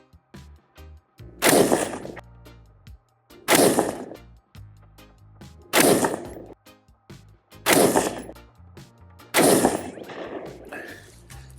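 Five loud, sharp rifle shots ring out from a 2020 ultra-lightweight KP-15 firing .223 Federal Gold Medal Match 69-grain Sierra MatchKing rounds, spaced about two seconds apart, each with a short ringing decay.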